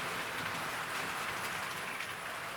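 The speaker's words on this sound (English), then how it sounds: "whether we have the trains running past or not, in the case of the HST in the background" A model HST train runs past on a layout, giving a steady, broad rushing rumble that holds constant and fairly loud throughout, with no talking.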